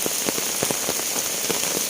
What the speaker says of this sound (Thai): นี่บรรยากาศเช้าๆนะครับที่ฝนตก